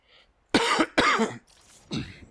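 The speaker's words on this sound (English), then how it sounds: "forgive me if I'm coughing" Three harsh coughs ring out close up after a faint breath, the first two loud and back to back, the last softer.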